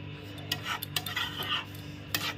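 A spatula scrapes and clinks repeatedly against a pan as a young jackfruit and goat liver curry with ghee is stirred, quick metallic taps in an irregular rhythm, close and fairly quiet.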